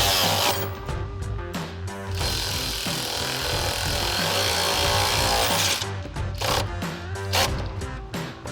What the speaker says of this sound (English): Then we'll use a 13mm socket on our impact to tighten down our lock nuts for our boards